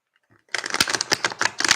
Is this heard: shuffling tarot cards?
yes